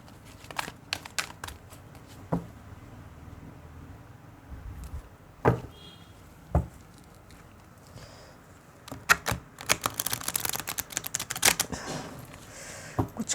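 Large tarot cards being shuffled, heard as scattered flicks and papery slaps that build into a denser run of riffling near the end, close by with no talking.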